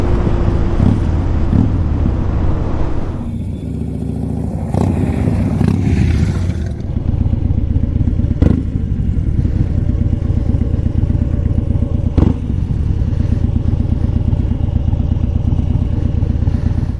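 A 2015 Harley-Davidson Dyna Wide Glide cruises along a quiet road toward a lake, its engine a loud, steady rumbling drone throughout, with a few brief clicks and no voices.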